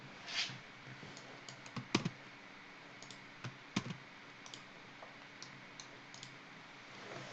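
Faint clicks of a computer mouse or keyboard, used to select a URL in mind-mapping software, tick out sparsely and quietly against a low background hum, with no voices.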